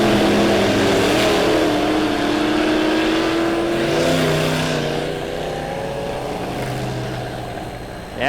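Dirt track race cars roar around the oval at Lebanon Midway Speedway under green flag racing, a loud engine drone that swells and fades as the cars pass, with pitch sweeps from the passing engines.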